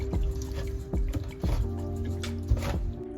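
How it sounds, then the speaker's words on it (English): Raw chicken being mixed by hand with a lemon herb marinade in an aluminum container, giving close, wet squishing and dripping sounds in irregular bursts with no talking. "just mix everything together, including the marinade that I made yesterday"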